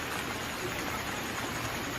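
Steady, even hiss of rain falling in a Hindi children's cartoon about birds, a constant moderately loud wash with no talk over it.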